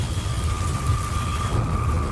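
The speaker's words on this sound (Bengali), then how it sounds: "বাইরে তখনও ঝমঝম করে বৃষ্টি পড়ছে।" Heavy rain in a cartoon night scene at a station, a dense, constant close downpour roar with a low rumbling undertone throughout, no talking.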